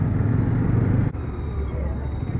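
A KTM Duke 250 motorcycle on a test ride gives a steady, loud engine drone mixed with rushing wind, continuous throughout with no speech.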